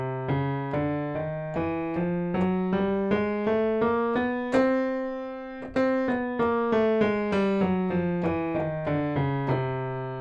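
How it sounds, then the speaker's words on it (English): A chromatic scale on a pitched instrument, every half step in turn from C up to the next C and back down, steady and evenly spaced notes played alone with no talk. "Now that is just every note played in half steps, one after another, from C all the way up to C again."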